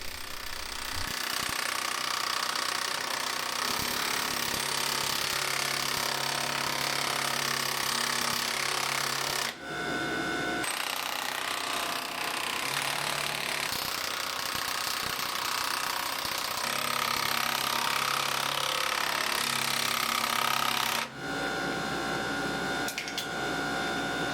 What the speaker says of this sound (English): I use a DeWalt cordless impact and 8-point sockets to twist the steel, which works great.